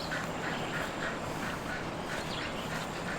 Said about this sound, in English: I was just checking out the ducks.